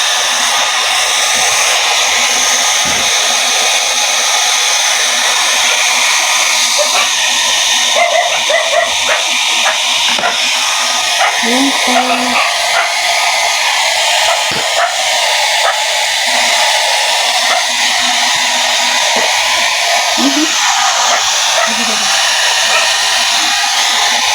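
Loud, steady whooshing hiss of a blower drying the fur of three-month-old puppies, running continuously, with faint whimpers and small yelps from the puppies heard underneath.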